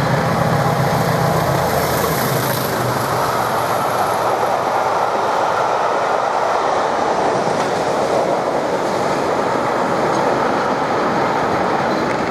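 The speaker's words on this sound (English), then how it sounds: "The approaching train is not scheduled to stop at this station." A pair of Class 20 diesel locomotives hauls a train through a railway station without stopping, a loud, steady roaring engine and rolling wheel noise filling the whole stretch close by, with no talk.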